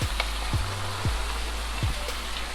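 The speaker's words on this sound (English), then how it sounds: "Hot oil sizzle." A second batch of pizza fries sizzles in hot oil, a constant dense hiss close by, with occasional low thumps from the pan underneath.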